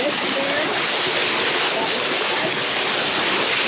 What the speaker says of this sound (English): famous Roselle Falls